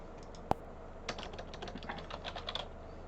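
Typing on a computer keyboard into a search field: one sharp click, then a quick, uneven run of soft, close keystrokes with no talking.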